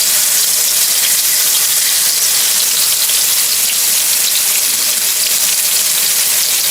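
Swai fillets lightly dredged in flour fry in a hot pan, giving a steady, dense sizzle and crackle that stays loud and even throughout with no talking.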